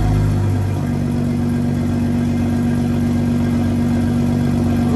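A BMW M240i with an Akrapovic titanium exhaust idles steadily up close, a loud, continuous engine rumble that dips slightly after a brief opening blip, with no voices.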